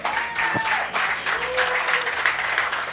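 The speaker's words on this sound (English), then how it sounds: "Please give Michael Russo a round of applause just for being Michael Russo." A crowd at a live comedy show at the Tin Shed claps steadily in a thick, continuous burst of applause lasting a few seconds, with scattered voices and whoops mixed in.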